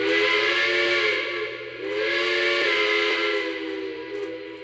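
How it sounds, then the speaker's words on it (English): A loud, sustained Pennsylvania Railroad steam locomotive whistle with a rich chord, blown twice in long blasts with a short break between them. "that's the other Pensy whistle"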